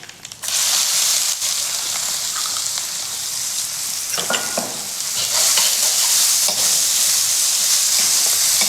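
Finely chopped onion and asafoetida fry in crackling hot mustard oil for a Marathi sandge vegetable curry, a loud, steady sizzle broken by a few sharp spoon scrapes and clinks as it is stirred.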